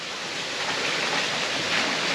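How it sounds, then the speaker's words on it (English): Shallow, knee-deep water at Howard Springs nature play area being splashed about by someone playing, a steady broadband wash of churning water filling the scene at close range with no talking. "there's one big kid playing in the water."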